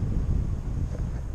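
North wind gusting across a paragliding landing area at Nová Hoľa, Donovaly, as a steady low rumble of wind buffeting the microphone, loud and continuous, with no voices.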